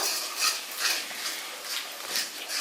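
Kashmiri chili powder is stirred in a cooking pan, giving a steady, close scraping and rustling with rhythmic spoon strokes and no talking.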